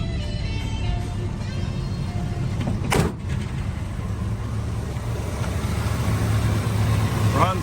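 Engine of a 1985 Chevrolet Blazer with an Edelbrock carburetor and intake, idling steadily and loudly in a low even rumble with a brief clatter near the middle.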